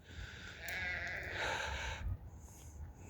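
Sheep bleat close by in a steady, overlapping chorus for about two seconds, then fade to quieter farmyard background noise.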